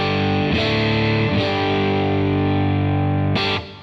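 Electric guitar played through an Allen Gear Lydian boost pedal switched on, giving a driven, gritty tone; loud sustained chords struck a few times and left ringing until a quick choke at the end.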